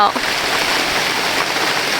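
Heavy rain pours down steadily at a rural Thai home, a dense, loud continuous wash of water with no letup, filling the space alone without voices.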